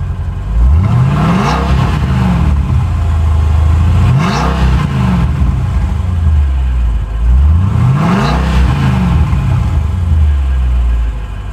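Mercedes-Benz CLK DTM AMG race car engine revving hard in repeated loud bursts, each rise and fall of revs roughly every four seconds, close and alone with no talking.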